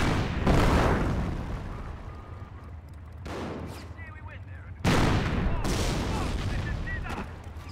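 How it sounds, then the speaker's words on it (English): Heavy booming cannon shots from a German Panzer tank in the World War II strategy game Company of Heroes, loud and spaced slowly apart, with a rumbling battlefield backdrop between blasts. "Notice the Panzer's slow rate of fire."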